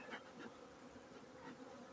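Bees at a beehive warmed by the sun, a faint, soft, steady buzzing hum of many insects with a few brief louder passes.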